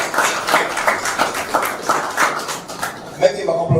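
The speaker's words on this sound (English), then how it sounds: "Please, a round of applause for doing that." An audience claps at a computer literacy and digital skills stakeholders event, scattered rhythmic hand claps over a few seconds mixed with background voices.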